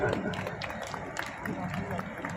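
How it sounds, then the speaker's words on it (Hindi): Crowd applause for Gaur Sahab at a one-day astrology seminar in Kota, a dense, steady patter of many hands clapping throughout, with voices murmuring underneath. "गौड़ साहब के लिए एक बार जोरदार तालियां"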